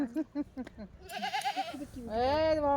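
A pet goat gives one loud, near wavering bleat near the end, after a few seconds of people talking nearby.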